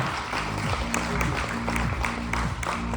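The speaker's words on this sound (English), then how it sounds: "Let's give a round of applause." Audience applause after a conference talk, a loud steady wash of clapping throughout, with a low sustained musical tone underneath.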